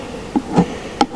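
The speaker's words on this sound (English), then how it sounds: "I need to shake the bees off." Honey bees buzzing around hive frames during a hive check, with a few brief close buzzes and faint clicks over a low hum.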